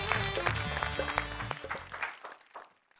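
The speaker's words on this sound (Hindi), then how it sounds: "जरा जोरदार तालियां बजाएं।" An audience at a Hindi poetry and comedy show applauds on cue, dense crowd clapping that starts strong and gradually thins and fades out over a few seconds.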